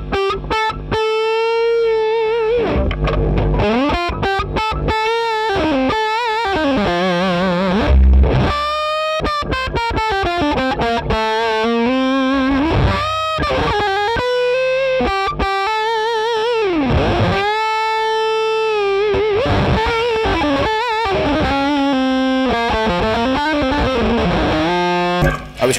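Electric guitar through a KHDK Unicord Blood II octave fuzz pedal, played in a continuous, loud, synth-like fuzzy line with sliding, bending notes and thick buzzing harmonics throughout.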